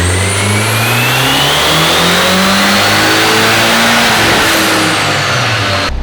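A rear-wheel-drive Honda Civic runs hard on a dyno, its engine screaming loudly and climbing steadily in pitch through a long sustained pull, then cutting off abruptly at the end.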